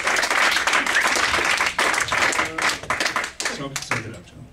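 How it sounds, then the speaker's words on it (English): An audience at a roast event applauds, a loud crowd of clapping hands with uneven surges and a few louder individual claps, tapering off toward the end as a voice begins over it. "have another round of applause for this."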